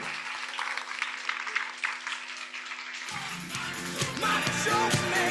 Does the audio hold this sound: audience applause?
yes